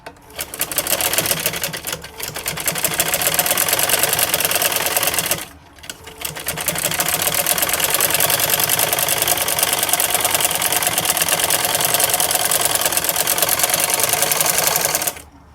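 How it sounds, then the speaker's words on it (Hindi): A sewing machine runs steadily, stitching along the folded-in edge of a kurti hem, with a brief pause near the middle before the fast, even stitching resumes loud and close. "अब हम इसको इस तरह से अंदर की तरफ फोल्ड करेंगे और इसके ऊपर हम सिलाई लगाएंगे बिल्कुल किनारे के ऊपर से।"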